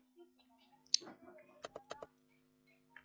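A computer mouse clicks three or four times in quick succession, sharp and close, shortly after a person speaks.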